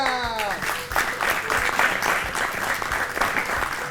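Applause from a studio audience on a children's school quiz show, brisk clapping that starts behind a fading tone and continues in a dense, fairly loud patter to the end.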